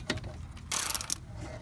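A ratchet with a 12 mm socket clicks rapidly in one short burst while loosening a brake line bracket bolt. The sound is close and faint, with a quiet workshop around it.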